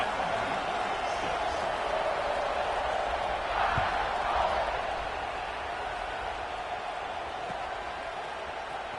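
A college football stadium crowd makes a broad, steady roar before kickoff, a distant wash of cheering and noise with no single voice standing out.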